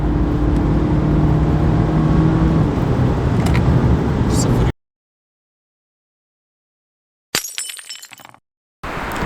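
A tuned BMW F30 316i with a Stage 2 remap launches hard from a standstill, a loud, dense roar for several seconds that then cuts out. It returns later as shorter, rougher bursts.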